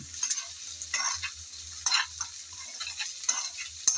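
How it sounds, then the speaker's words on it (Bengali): Ginger and garlic paste frying in a pan for a prawn dish, a soft steady sizzle broken by scraping stirs with a spatula, fairly close and with no talking. "আদা রসুন ভালোভাবে ভেজে নিতে হবে যাতে কাঁচা গন্ধটা চলে যায়"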